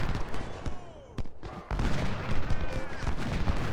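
Musket and sniper rifle fire in a Civil War battle in Ultimate General: Civil War, a dense crackle of overlapping shots and booms with a brief lull midway before the firing resumes.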